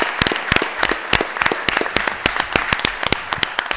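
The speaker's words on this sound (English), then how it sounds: "Councilors, I think we also want to give a round of applause to our colleague" Councilors and audience at a city council meeting applaud a colleague, a room full of sharp, distinct hand claps in a steady, lively patter.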